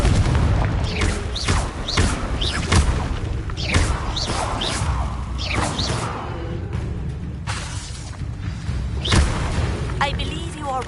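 In the video game Hogwarts Legacy, a Confringo blasting curse sets off repeated booming explosions with whooshing spell casts and crashing impacts. A voice speaks over the dense combat noise.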